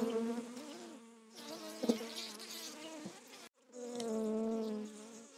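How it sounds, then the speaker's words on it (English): A dense swarm of honey bees buzzes steadily around an opened two-box hive nearby, the drone rising and falling in pitch with a brief dropout partway through. "So this is two completely full boxes of bees."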